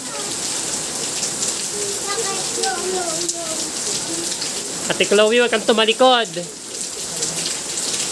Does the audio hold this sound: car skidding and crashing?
no